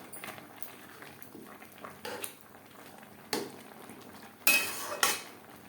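Moong dal being stirred with vegetables and spices in a pot, a spoon scraping and clinking against the metal in irregular strokes, with a few sharper knocks toward the end, close and fairly quiet.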